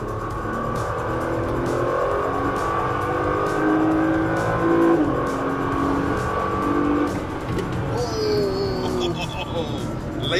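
A Volkswagen race car laps a track with its engine revving hard, the pitch rising and falling through gear changes near the mic, and talk over the engine noise.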